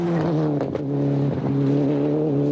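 A 1997 Toyota rally car on the Burzet-Saint-Martial special stage of the Monte Carlo Rally. The engine drones loud and steady at close range, its pitch shifting slightly as the driver works the throttle through the stage.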